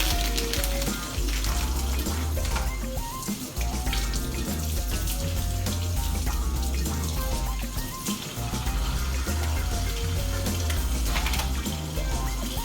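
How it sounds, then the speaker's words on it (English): Sausage rinsed under a running kitchen tap for a crab boil, a steady loud rush of water splashing into the sink for the whole stretch with no talk. "Rinse my sausage off."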